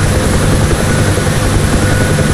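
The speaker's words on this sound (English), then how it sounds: "transition the helicopter from a hover into forward flight" A UH-1 Huey helicopter in the DCS World flight simulator holds a hover, its loud, steady rotor thump and turbine roar filling the whole stretch without a break or any voices.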